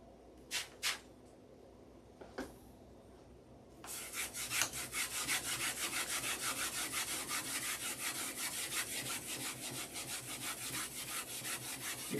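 Wood sanded by hand with abrasive paper: a few isolated scrapes at first, then a long run of rapid, rhythmic back-and-forth rubbing strokes, close and steady, with no talking.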